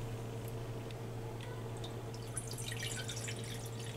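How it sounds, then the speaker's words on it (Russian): Water pours into a small saucepan, a light trickling and dripping splash that grows busier toward the end over a constant low background hum. "Затем я беру кастрюльку, наливаю туда воду,"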